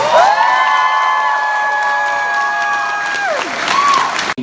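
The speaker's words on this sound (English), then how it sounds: "A massive round of applause for these wonderful people." A large crowd at a Final Fantasy fan event claps and cheers loudly and continuously, with whoops and shouts rising over the sustained applause.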